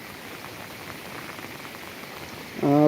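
A heavy monsoon rain shower pours at Koyna, a steady dense hiss of rainfall throughout, with a sudden louder tonal sound entering at the very end.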